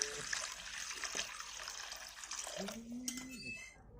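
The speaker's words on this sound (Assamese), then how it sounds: "এক কেৰাহীত পানী ঢালি দিছো।" Water being poured into a kadai, a brief splashing trickle that rises in pitch as the pan fills, heard faintly in a home kitchen with some background noise.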